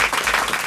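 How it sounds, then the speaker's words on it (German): Brief burst of studio audience applause during a German television discussion panel on the health system, dense and steady for under a second. "die Menschen klatschen"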